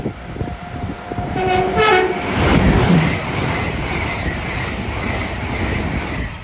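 A train passes through Watford Junction on the West Coast Main Line, its horn sounding briefly before a loud, sustained rumble and rush of wagons rolling by close at hand.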